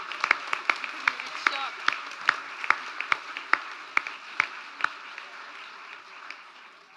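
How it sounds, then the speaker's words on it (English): Applause for the winner, Marlon Denning, at a small gathering, a modest group clapping with distinct rhythmic claps standing out, fairly close and gradually thinning toward the end. "a round of applause to Marlon Denning"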